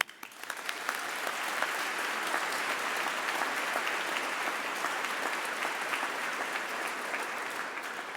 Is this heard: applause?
yes